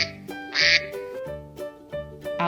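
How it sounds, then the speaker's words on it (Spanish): Several short bursts of duck-like quacking, close and fairly loud, separated by brief pauses. "Ahora parece que nos está llamando el pato."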